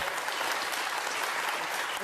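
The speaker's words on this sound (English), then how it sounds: "Of course they're going to clap." A studio audience on a daytime talk show bursts into dense, sustained applause, loud and even across the whole stretch, with a voice talking faintly beneath it.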